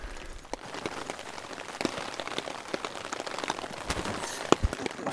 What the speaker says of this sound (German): Fing es an zu regnen.